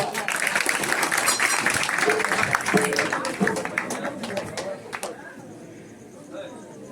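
An audience at a Navratri village performance of the Gujarati folk play Jesal Toral claps loudly for the actors, a thick burst of applause that gradually thins out toward the end.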